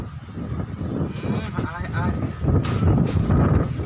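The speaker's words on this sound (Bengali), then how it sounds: "বাতাস" Wind gusting outdoors under a cloudy sky over Dhaka, a steady rushing and buffeting on the microphone that swells toward the end, with voices faintly mixed in.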